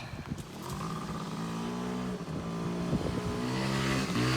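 Honda Scoopy 75cc scooter engine heard up close on a hot day, revving with rising and falling buzzy tones, a few short blips and throttle swells, no talk over it.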